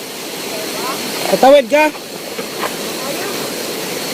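A strong river current rushes in a steady, broad wash throughout, with a person's brief question spoken over it.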